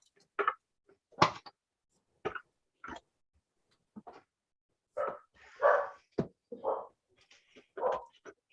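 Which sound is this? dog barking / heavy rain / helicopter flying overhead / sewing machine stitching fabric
dog barking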